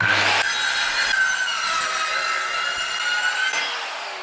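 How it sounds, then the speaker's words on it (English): Circular saw with its blade set 11 mm deep cutting a wooden sub-floor board in a Vauxhall Vivaro van: one loud, steady high-pitched cutting whine that holds for about three seconds, then eases off as the cut ends. "I've put a guard on there, just a little bit further over to take into account the base of the saw, and we've set the blade to 11mm deep"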